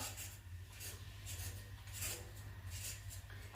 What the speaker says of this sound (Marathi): माझ्याजवळ हे साधन आहे, त्याच्याने मी सोलून घेत आहे गाजर